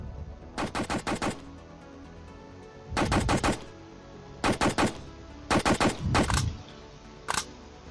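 Bursts of rapid automatic gunfire in a Unity-built first-person shooter as zombies are shot, five loud, close volleys of quick shots separated by short pauses, with no talking.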